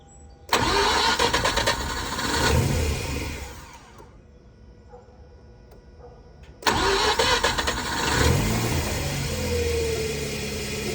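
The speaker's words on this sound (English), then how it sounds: "start your car, and let it bubble back down the way it should" A Mazda RX-8 with a freshly replaced radiator cranks and fires twice, each start bursting into a loud rotary idle that holds for a few seconds, with a quieter pause between the two attempts.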